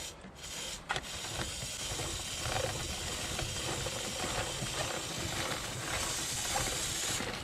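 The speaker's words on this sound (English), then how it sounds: "And I like to spray on the inside as well." A long continuous hiss of chain lube aerosol spray on the inside of a track motorcycle's chain, close to the microphone, starting with a couple of short puffs then holding steady.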